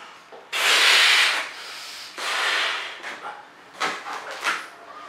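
Air rushing into a thick mocha brown 350 latex balloon in a couple of long, loud pumped bursts, followed by squeaky rubbing of the latex.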